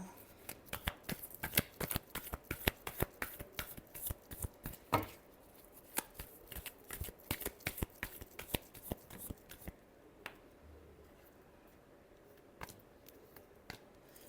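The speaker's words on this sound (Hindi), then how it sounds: "last shuffle" Tarot cards are shuffled in rapid, crisp riffles and taps, close and steady for about ten seconds, then thinning to a few scattered snaps.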